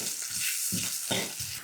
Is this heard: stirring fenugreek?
yes